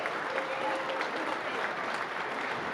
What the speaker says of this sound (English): The announcements going on and the applause for the TV table.